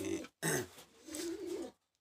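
Pigeons in a home loft give two short, close, soft coos separated by a brief pause, and then the clip falls silent.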